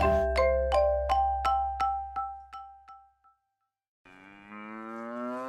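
Cattle on an integrated maize and pumpkin farm in Wyoming: a run of evenly spaced ringing, chime-like strikes fading away, a short silence, then a loud sustained moo.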